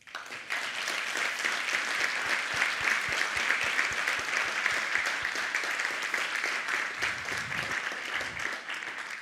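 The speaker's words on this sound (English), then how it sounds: "One big round of applause, please" Sustained audience applause after a talk by an app developer who went on to run a company, dense steady clapping from a seated crowd filling the whole stretch at an even, moderately loud level with no talk over it.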